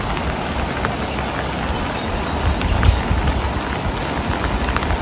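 Rain falling outdoors in the hill countryside around Peruvannamuzhi, a dense, even hiss of drops with a low rumble underneath, steady and fairly loud, with no voices.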